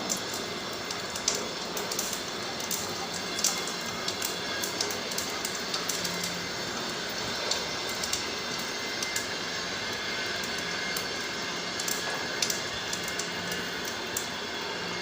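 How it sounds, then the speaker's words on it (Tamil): Mustard seeds, urad dal and fenugreek splutter in hot oil for vatha kuzhambu. The crackle is steady and hissy, with frequent sharp little pops scattered throughout and no talking. "கடுகு உளுந்த பருப்பு இந்த வெந்தயமும் கொஞ்சம் பொரியட்டும்"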